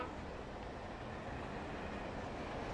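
A train in the Alan Wake Remastered video game, a steady low rumbling roar that stays constant and moderately loud throughout with no voices.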